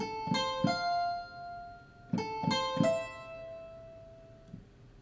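A keyboard mandolin patch plays picked notes without tremolo, a few short plucked pairs and brief phrases with ringing tails, fairly quiet and alone.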